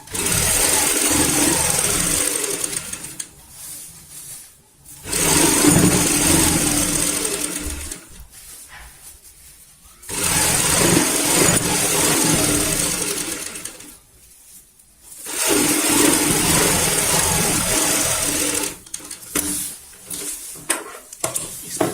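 A sewing machine runs in four long bursts with short pauses between them, stitching a second seam along a baby bed sheet at home. The whirring is steady and close, with no talking over it.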